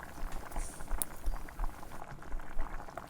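Foraged sour apples simmer in a pot for pectin, giving a soft, constant bubbling and popping of boiling liquid, quiet and close with no talking.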